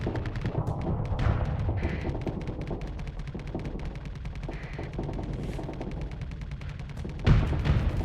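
Spaceship guns fire in the space combat game Starsector, rapid repeated shots in fast bursts over a low rumbling engine drone, with a heavier thump near the end.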